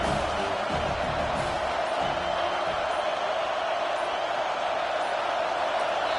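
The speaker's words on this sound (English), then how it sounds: "with this place rocking, the crowd forces a false start" Stadium crowd in a College Football 25 game, USC against Miami, roaring steadily and loudly as a broad continuous wash of noise with no break across the whole stretch.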